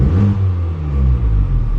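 A 2023 Honda Civic Type R with a modified exhaust in comfort mode gives a steady, deep low rumble at idle or light throttle, close and fairly loud, with no voices over it.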